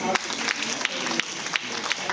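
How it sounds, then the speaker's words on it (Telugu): Audience clapping at a Teachers' Day function honouring a chief guest, a short burst of scattered claps with a loose, uneven rhythm, moderately near, with a faint voice underneath. "అందరూ చప్పట్లు కొట్టండి"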